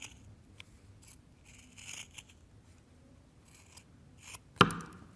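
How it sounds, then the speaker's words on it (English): Scissors or shears snip off the corners of fabric for a triangle pencil case, a single sharp close cut near the end after quiet handling rustles. "we're gonna take our scissors or shears, and we're gonna cut off the corners"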